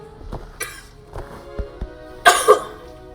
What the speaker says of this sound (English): I had a cough